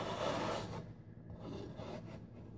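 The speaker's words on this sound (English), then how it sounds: "Just scrape it off." Acrylic paint being scraped off a surface during an acrylic pour session, a steady close rasping scrape that runs almost continuously for a couple of seconds with no talking.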